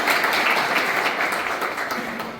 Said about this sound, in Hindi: आप उनके लिए तालियां बजाइए